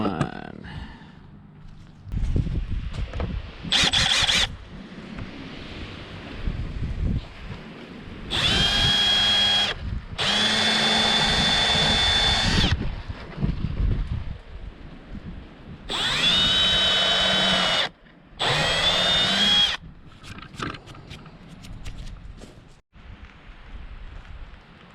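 A power drill bores a series of holes while building a full-height teardrop camper, in several loud whirring bursts of a few seconds each separated by quieter pauses where someone speaks.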